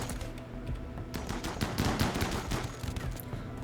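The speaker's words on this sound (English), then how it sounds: "A pair of chain shotguns really make the chargers have a worse day." Chain shotguns firing in the colony-sim game Rimworld during a fight with chargers, a dense run of sharp blasts close together over steady background noise with no talk.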